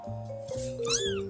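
A cat gives a short, rising and falling meow over a faint steady hum, heard close and fairly clear.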